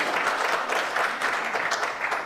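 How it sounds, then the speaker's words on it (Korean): Dense, sustained clapping from an audience at a Korean economics lecture event, even and close, with no voices over it. "대표님에게 다시 한번 큰 박수 보내주십시오"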